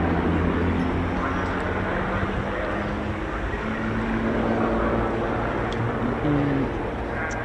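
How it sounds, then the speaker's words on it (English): Avro Lancaster bomber's propeller engines running at an air tattoo, a continuous loud droning hum with steady throbbing tones, heard through outdoor ambience. "hear the Lancaster running nicely there"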